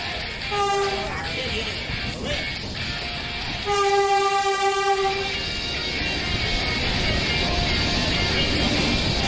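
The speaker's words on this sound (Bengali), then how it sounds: "নির্ধারিত সময় থেকে 27 মিনিট লেটে ট্রেন এসে পৌঁছালো রামপুরহাট স্টেশনের 3 নম্বর প্ল্যাটফর্মে।" Saraighat Express arriving at platform 3 of Rampurhat station, sounding two loud horn blasts, a short one then a longer one, over the continuous rumble of the moving train.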